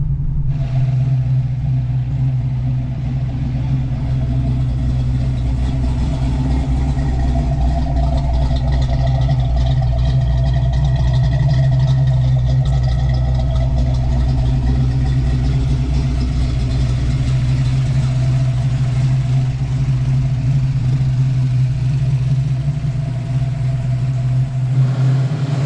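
A 1988 LX with a 331 stroker engine and nitrous rumbles steadily as it pulls into a garage bay, a deep continuous idle close by with slight swells in the throttle and no voices.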